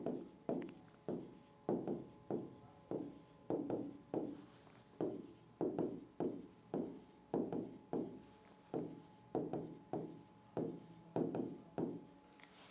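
Hand writing during a maths lesson on the number line: repeated quick strokes, about fifteen in regular rhythm, close and fairly quiet, with no talk.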